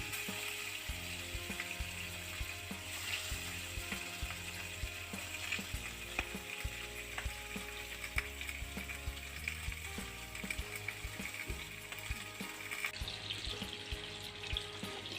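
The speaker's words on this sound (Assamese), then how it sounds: "মাছখিনি প্ৰথমতে ভাজি ল'ম।" Fish pieces frying in hot oil, a continuous crackling sizzle with occasional sharper pops and light stirring clatter, heard close up and without talk.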